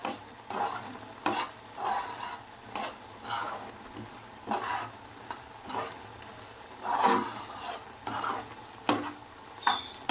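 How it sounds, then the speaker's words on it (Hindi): Chicken stirred and fried in a pan: repeated scraping strokes of a spoon against the pan, roughly one every second, over a constant close sizzle of hot oil, with no talking. "तो इधर चिकन डालने के बाद हमने इसे अच्छे से मिक्स कर लेना"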